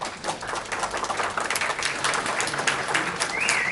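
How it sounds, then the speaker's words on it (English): Audience members clap at a city planning and zoning commission meeting, a cluster of individual hand claps with a choppy, uneven rhythm, fairly close and steady, with faint voices mixed in. "You're not supposed to clap."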